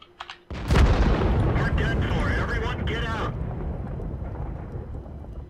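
A heavy tank cannon shot in World of Tanks, a loud booming blast with a short sharp onset that rolls into a long rumbling decay, heard alone in a battle replay.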